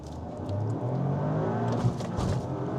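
A 2025 Toyota GR Yaris facelift with a manual clutch revs to about 2,000 RPM and launches as the clutch drops, giving a close engine drone that rises, with a brief thump near the end.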